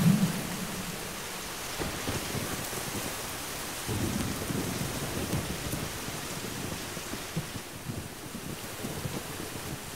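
Heavy rain pours continuously with low rumbles of thunder, a dense steady wash of drops that swells slightly at moments, with no voices over it.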